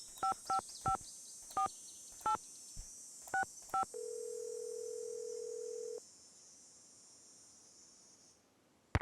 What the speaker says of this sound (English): I don't like talking on the phone to begin with.